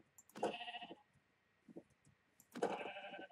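Two sheep bleats from the Minecraft video game, each a loud, wavering cry about two seconds apart, with a faint softer sound between them and no talking.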